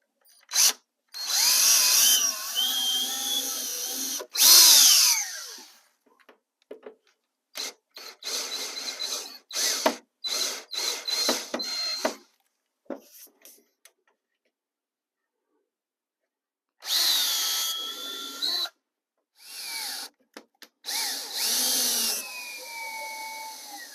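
A power drill drives flathead wood screws, heard up close in several loud whining bursts that rise in pitch, with short gaps and a few taps between runs.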